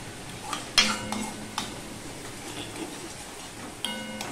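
Curry of Kashmiri-style paneer being stirred in a pan after sugar and garam masala go in, with a soft sizzle under several close scraping, clinking strokes of a utensil against the pan.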